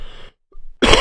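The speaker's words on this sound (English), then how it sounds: "I'll just have to mute my mic a lot to cough like now." A single harsh cough bursts out loudly close to a microphone right after a brief near-silent gap, with no speech.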